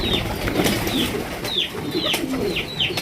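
Lahori and Sirazi pigeons coo loudly and close by, with repeated warbling calls over a busy background of rustling and scattered bird sounds.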